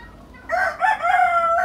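A local chicken rooster crows loudly and close by, one full cock-a-doodle-doo starting after a brief quiet moment and holding to the end, with no talk.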